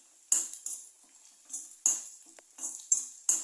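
A utensil scrapes and clinks against a pan while samosa filling of ginger and garlic is mixed, with short irregular metallic taps close by and quiet gaps between them.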